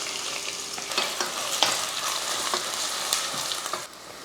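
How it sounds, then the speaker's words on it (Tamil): A large onion frying in oil in a pressure cooker with bay leaves and star anise, giving a steady close sizzle with occasional stirring scrapes and a brief drop near the end. "அடுத்ததாக ஒரு பெரிய வெங்காயம் சேர்த்துக்கலாம்."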